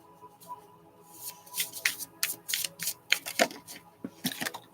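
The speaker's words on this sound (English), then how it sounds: "I'm still shuffling." Tarot cards are shuffled by hand in quick, irregular bursts of crisp riffling and slapping, close and fairly quiet, with no talk.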